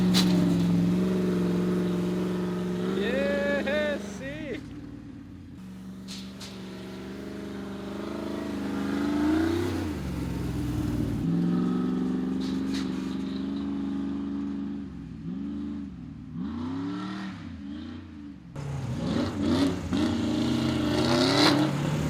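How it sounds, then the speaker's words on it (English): A trophy truck set up as a stunt truck revs its engine loudly on practice runs toward a ramp, rising and falling pitch sweeps repeating through the stretch, close and dominant with no talk over it. "this is his trophy truck, stunt truck"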